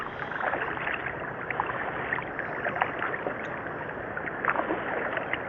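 Kayak paddling on water, a close, steady wash of splashing and swishing strokes with light gurgles, continuous and moderately loud.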